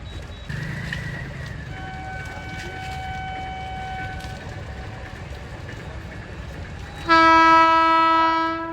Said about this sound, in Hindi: मेरे आते ही फाटक बंद हो गया। वो आ रही है ट्रेन।